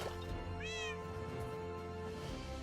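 A short cat meow from a cat cam rises and falls briefly, heard faintly over a dense, steady bed of game music and background tones; no talking.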